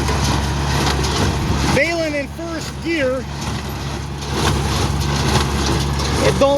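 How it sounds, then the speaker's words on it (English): Tractor pulling a baler through timothy hay in first gear, a steady low engine rumble running throughout, close and continuous, with someone speaking over it. "Baling in first gear."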